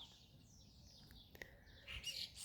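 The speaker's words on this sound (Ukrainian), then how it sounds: "Наді мною шпаківні і шпаки співають цілий ранок." Starlings sing from nest boxes in a spring garden on a sunny March morning, their chirps and whistles faint and distant, building into a brighter burst near the end, with no voices.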